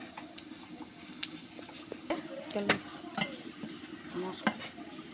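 Panch phoron spices sizzling in hot oil in a pan, a close, even crackle and fizz with scattered pops and a few metallic clinks of stirring.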